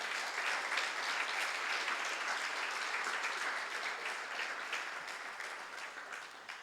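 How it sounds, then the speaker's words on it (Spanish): A church congregation gives loud, sustained applause during a sermon, a steady wash of many hands clapping at once that tapers slightly toward the end, with no talking over it. "¿Le das un fuerte aplauso al Señor?"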